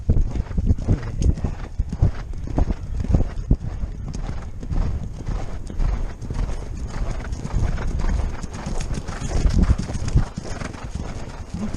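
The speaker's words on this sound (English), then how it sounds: "Not racing, they're just a galloping." Horses galloping, a loud continuous drumming of hoofbeats close by with an occasional neigh, rumbling on throughout.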